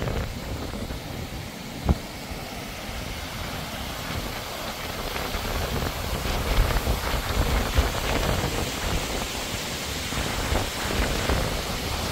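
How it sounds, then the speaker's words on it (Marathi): Heavy monsoon rain pours over Parbhani city, a broad unbroken roar of water with one sharp knock early on, loud and constant throughout. "परभणी शहर व जिल्हाभरात आज सकाळपासूनच मुसळधार पावसाला सुरुवात झाली आहे"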